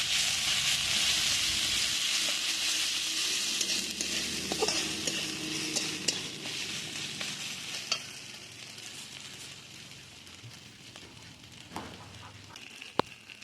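Ginger-garlic paste sizzles in a pan for a meat curry while being stirred, with crackling frying that gradually quietens, punctuated by scraping strokes and a few sharp utensil clinks.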